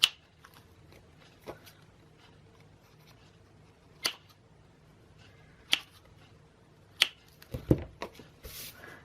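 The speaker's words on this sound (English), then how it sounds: "now I can trim off my little ends because I don't want them that long" Scissors trim the paper ends on a handmade greeting card in a few sharp, isolated snips spaced seconds apart, with quiet paper rustling near the end.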